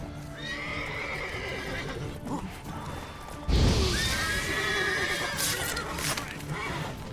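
A horse whinnies over steady game ambience in The Witcher 3: Wild Hunt, then a sudden crash hits midway as the rider falls off, followed by hoofbeats and more loud, bright neighing.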